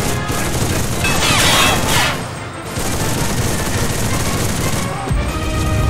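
MG 34 machine gun from the video game Enlisted laying down suppressing fire: dense, continuous battlefield gunfire with crashing impacts that swells, dips briefly, then carries on loud to the end.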